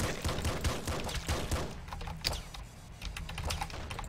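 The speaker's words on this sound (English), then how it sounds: "I shoot way too many bullets." Rapid bursts of gunfire ring out in the top-down shooter Nuclear Throne, with dense clusters of sharp shots at the start, then sparser pops over a low game background.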